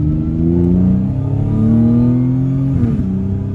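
An Audi S5 coupe's turbocharged V6 revs with its exhaust flaps, a loud, dense, droning tone rising steadily in pitch then dipping briefly before climbing again, close and alone.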